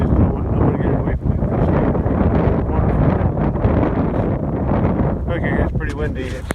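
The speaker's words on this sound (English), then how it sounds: "it's pretty windy" Strong wind buffets the microphone outdoors at a pasture with cattle and a fallen tree on a fence, a loud, continuous roar and rumble lasting throughout, with a few brief rustles near the end.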